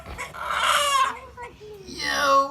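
A chicken gives two short, bright crowing calls close by, with a brief pause between them and no talking over them.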